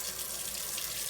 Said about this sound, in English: So I'm going to turn on the water here.